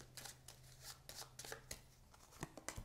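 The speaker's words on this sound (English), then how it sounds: "I'm going to shuffle these." A deck of game cards is shuffled during a solo tabletop game of Shadowrift 2nd Edition, giving close, papery riffling bursts and soft slaps in a quick, uneven rhythm with no talking.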